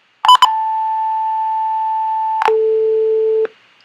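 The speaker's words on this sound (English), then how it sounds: "people have used these beep things to make songs." Programmed electronic beep tones from a coding lesson on inputs and outputs: a short blip, then a steady tone held for about two seconds, then a lower tone held for about a second, loud and clean.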